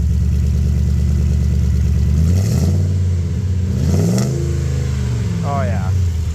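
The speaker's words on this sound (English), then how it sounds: "Give her a rev." A Jeep's Hemi V8 with a new Flowmaster exhaust revs loudly and close by, deep throaty rumble surging up and down in pitch through several blips, with people talking over it.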